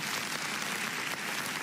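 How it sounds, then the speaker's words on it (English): Audience applause for a student who won a football scholarship to Howard University, a dense, steady clapping from a crowd indoors, sustained at even loudness throughout. "Let's give him a round of applause"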